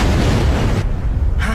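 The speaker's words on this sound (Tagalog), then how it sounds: "Humanda kayo sa malakas na pagsabog." An explosion sound effect from an animated cartoon: a loud, close, roaring blast that fills the moment and then cuts off sharply, with no speech over it.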